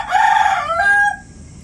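A rooster in a rural Thai yard lets out a single loud, close crow lasting about a second, its call rising and then sliding down before trailing off into quiet.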